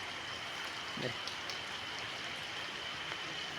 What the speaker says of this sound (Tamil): வெளியே மழையை பாருங்கள் எவ்வளோ தண்ணி அங்கே பாருங்கள்